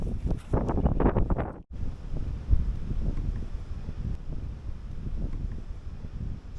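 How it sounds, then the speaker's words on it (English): Strong wind roars across the microphone in a steady, heavy low rumble, with one brief cut-out early on before the gusting resumes unbroken. "It's very windy."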